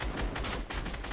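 Gunfire in the battle royale game Fortnite, a rapid burst of several loud, closely spaced shots in about a second.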